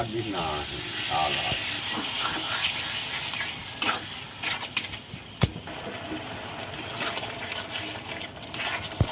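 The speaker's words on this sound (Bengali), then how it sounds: "টমেটো কুচি দিয়ে দিলাম, দই দিয়ে দিলাম" Chopped tomato and yogurt cook in a pan for a boal fish curry, hissing and sizzling steadily with scattered sharp pops and crackles, while a voice talks over the sizzle.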